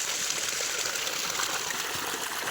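Water gushing from a pipe fed by a single-phase motor pumping from a well, a steady rushing splash heard close and continuous outdoors.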